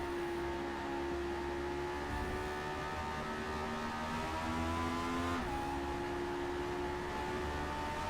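A race car engine in Forza Motorsport drones steadily on track, its tone rising and shifting through gear changes in one continuous, close whine.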